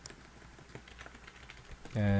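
Keystrokes on a computer keyboard while single quotes are typed for a Python string, quiet scattered taps across the clip, with a louder tonal sound cutting in at the very end.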